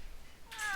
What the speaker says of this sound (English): Huh? A cat?